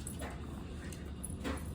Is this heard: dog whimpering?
yes